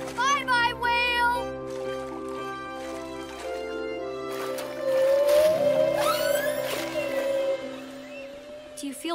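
Whale calls in a children's cartoon: long, sliding, moaning tones rising and falling, loud and close, over music and splashing water, with children's voices talking and cheering.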